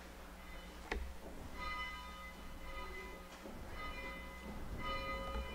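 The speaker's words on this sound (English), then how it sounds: "dell, our Director of Religious Exploration, to ring our bell 8 times for our 8 principles of faith." A bell rung during a church service, each strike ringing out with a sustained metallic tone that decays slowly, heard faintly and at a distance in a quiet room.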